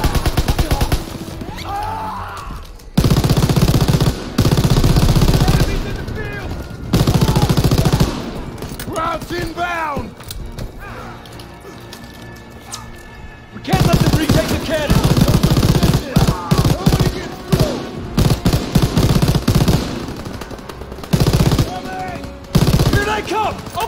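Dense gunfire from Call of Duty WWII, with machine-gun bursts and rifle shots crackling in loud clustered volleys between brief pauses, mixed with battle noise and shouted voices.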